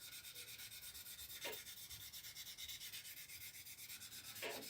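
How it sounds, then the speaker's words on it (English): Fine sander gliding without pressure over a Mitsubishi Zero scale model to smooth out scratches, a faint steady rubbing hiss with two brief louder strokes, alone and without talk. "I just put the sander on the model"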